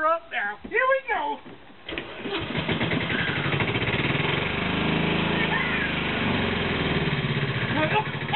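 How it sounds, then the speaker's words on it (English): A John Deere 6150R tractor's diesel engine cranks and catches after a short stretch of talk, then settles into a steady, loud, rumbling idle that fills the rest of the recording. "This is the 6150R John Deere, and she's a beast! I'm gonna start her up now."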